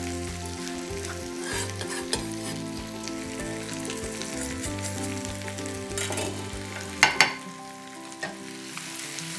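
Fried potatoes and onion stirred in a pan with fresh parsley after the heat is turned off, a soft steady sizzle with scraping stir strokes and a couple of sharp utensil knocks, all under background music.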